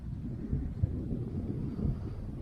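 Wind blows outdoors during a drone flight, a low rumbling buffet against the microphone that gusts unevenly, fairly faint, with no talking.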